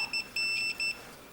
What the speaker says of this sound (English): Every multimeter should have a continuity test, and that will basically make a beep when